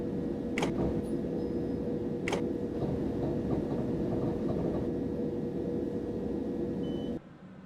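A Class 377 electric train running in Train Simulator 2016, on the London Victoria to Brighton route via Redhill, gives a steady, loud rolling rumble with two sharp clicks early on. It cuts away abruptly near the end.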